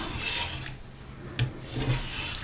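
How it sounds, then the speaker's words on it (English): A palette knife rasps across a palette, scraping off dried acrylic paint in a few short, soft strokes close by, with one sharper scratch partway through; no one speaks. "I'm gonna wipe, scrape off all of my color"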